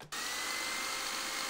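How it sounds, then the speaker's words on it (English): A hairdryer switches on abruptly and blows with a steady, loud whooshing hiss that stays constant. "Let's add the hairdryer."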